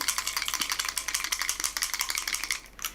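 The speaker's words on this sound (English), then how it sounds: "I'm gonna give this a good old shake before I put it on her face" A bottle of makeup being shaken hard, a fast rapid rattle of liquid and a mixing ball, close and steady for about three seconds with no talking.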